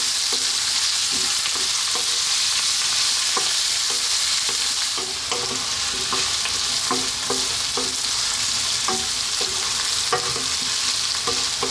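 Potato curry sizzling loudly in a hot pan while being stirred often, with steady frying hiss and repeated scraping strokes of the spoon throughout.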